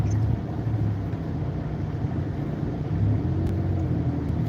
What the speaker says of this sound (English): Just heavy traffic right now.